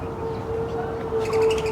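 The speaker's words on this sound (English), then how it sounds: "It's like a bird just chilling there." A bird calls in a quiet city park in the Bergen-Lafayette area of Jersey City, New Jersey, a thin sustained tone with a few chirps over a low bed of outdoor city noise.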